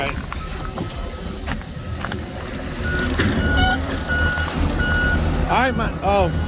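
Forklift reversing beeps repeat at a steady pulse near a flatbed truck being unloaded, sounding over engine rumble and outdoor noise, with a few chirping tones near the end.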